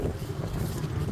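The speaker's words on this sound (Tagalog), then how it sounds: "Hindi namin mahawakan yung camera kasi sobrang lakas ng hangin." Strong wind gusting at a lakeside campsite at Mapanuepe Lake in Zambales, a dense low buffeting rumble battering the microphone without pause.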